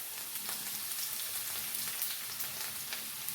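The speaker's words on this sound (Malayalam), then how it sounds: "ഇതിലേക്ക് ഒരു മീഡിയം സൈസ് സവാള നമുക്ക് വഴറ്റാനിട്ട് കൊടുക്കാം." Medium onion and curry leaves sautéing in hot coconut oil for a cauliflower kuruma, a steady close sizzle and crackle with faint stirring, no voices.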